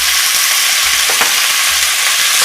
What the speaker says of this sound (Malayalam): നമ്മളിത് ബട്ടറിലൊന്ന് ഫ്രൈ ചെയ്തെടുക്കുക